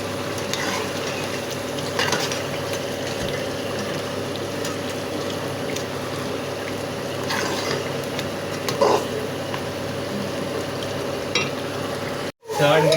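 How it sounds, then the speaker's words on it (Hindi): Tomatoes and yogurt fry in a pot for achar gosht, producing a loud, steady, close sizzle with stirring scrapes over a long stretch, broken by a brief dropout near the end. "दही को भी अच्छी तरह से भून लेंगे।"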